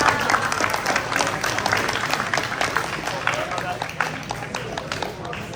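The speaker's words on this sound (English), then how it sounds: "can we please just get a round of applause for Vishal one more time?" An audience at an end-of-year student ceremony applauds, dense clapping that fades gradually, with voices talking and cheering through it.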